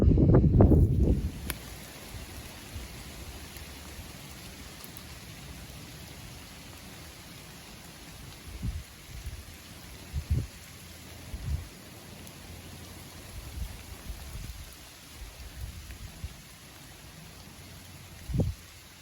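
Rain falls on leaves and ground outdoors in the UK, a steady soft patter with scattered heavier drops, after a louder rustling burst at the start.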